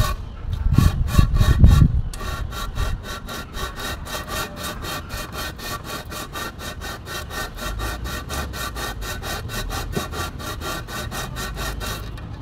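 Sandpaper is rubbed by hand across the face of a Honda Civic D15B engine block during a top overhaul. It makes a steady, rhythmic scraping of quick back-and-forth strokes, close and continuous, after a brief louder handling noise at the start.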